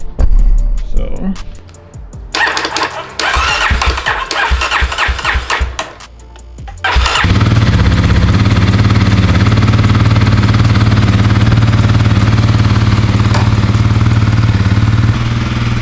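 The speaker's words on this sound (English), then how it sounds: "I'm gonna cut my bike on just to let it circulate" A Kawasaki KLX 300R dirt bike in neutral is started after a few rough cranking bursts, then settles into a loud, steady, close-up idle that runs without a break.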